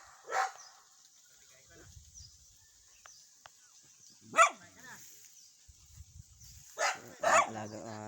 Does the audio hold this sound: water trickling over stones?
no